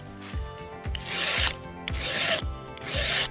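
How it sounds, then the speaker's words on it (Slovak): A hand file rasps across the cutter teeth of a Stihl MS 462 chainsaw chain, giving about five rhythmic forward strokes with brief lifts between them. The strokes are loud and close, with no voices. "Takisto pilník zaberá len jedným smerom dopredu"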